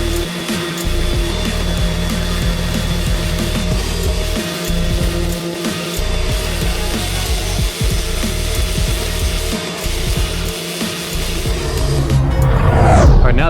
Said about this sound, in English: I'm gonna start sanding this part smooth,